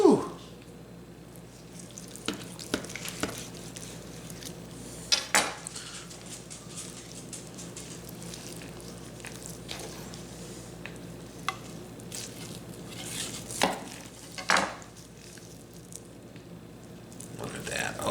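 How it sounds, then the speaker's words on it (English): A knife works through a double smoked, cola glazed ham on the bone, with scattered soft cuts and occasional sharper clinks of the blade against the board, set against a low kitchen hum. "Let me just slice a couple pieces here."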